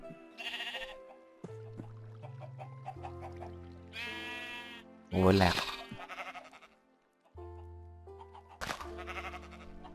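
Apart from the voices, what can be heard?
sheep bleating in the video game Minecraft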